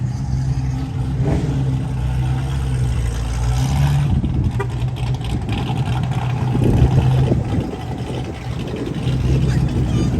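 A Ford Mustang engine at a car meet rumbles and revs nearby in a loud, steady drone, swelling a couple of times over outdoor background noise.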